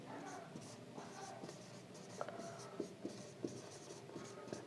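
Pen writing on paper, soft scratchy strokes with a few small taps, close but faint.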